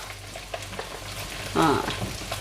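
Steak fries in a pan in a home kitchen, giving a soft continuous sizzle with a brief louder burst of spattering partway through.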